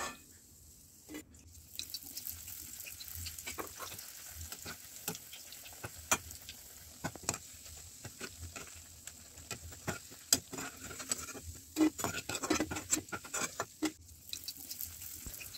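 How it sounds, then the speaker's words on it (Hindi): Bread slices frying in a pan for a quick sweet dessert, a steady soft sizzle with light crackles and pops throughout, fairly faint and without voices. "बस इतना ही हमको ब्रेड को फ्राई करना है"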